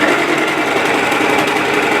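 Sewing machine running steadily at speed while stitching an apron, a dense continuous whirring hum with rapid needle chatter, close and alone without talk.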